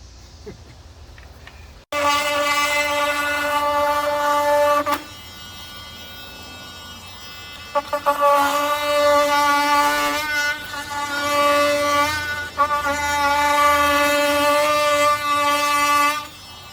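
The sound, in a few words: Porter-Cable Tiger Saw reciprocating saw cutting a wooden beam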